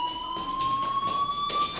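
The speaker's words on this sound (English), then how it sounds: "do you hear that fire alarm?" A fire alarm rings inside the video game Life Is Strange, a steady high electronic tone with pulsing bursts, continuous and fairly loud over faint background ambience.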